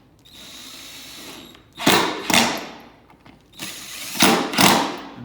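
A power drill snugs 5/8 or 3/4 inch bolts into wood during furniture assembly, sounding as two pairs of short whirring bursts that rise in pitch, close and loud, with no talk.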